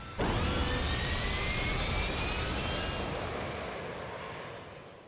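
A shuttle in a video game takes off with a sudden loud jet roar that begins abruptly, rumbles broad and steady, and slowly fades as it pulls away.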